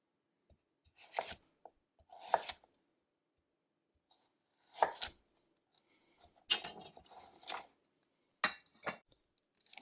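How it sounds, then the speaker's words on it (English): A knife slices carrots flat on a cutting board, making a few separate crisp chopping strikes with quiet gaps between them, close and fairly loud with no talking. "So we're just going to cut them flat, roughly 1/4 of an inch thick."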